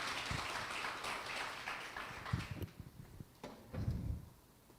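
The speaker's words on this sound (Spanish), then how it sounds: "Fuertes palmas a Jesús." A church congregation applauds, a soft, scattered patter of hands that swells in a few bursts and then fades, fairly distant and quiet.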